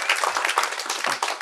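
A standing audience at a mimicry show applauds, a brief burst of dense, loud clapping from a crowd.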